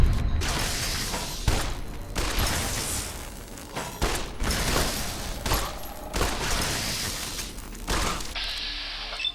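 Rapid bursts of gunfire from the game Fallout: New Vegas, Lonesome Road, loud repeated shots and booming impacts in irregular clusters over about nine seconds, with no talk.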